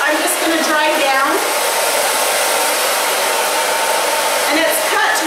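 A handheld hair dryer blows steadily at close range while a stacked haircut is dried, making a loud, continuous airy roar that holds throughout with slight shifts as it moves.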